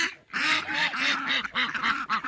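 Farm ducks quacking in a busy, overlapping chorus, loud and close, with repeated nasal calls running nearly the whole time and only brief gaps.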